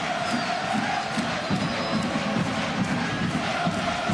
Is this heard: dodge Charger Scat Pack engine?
no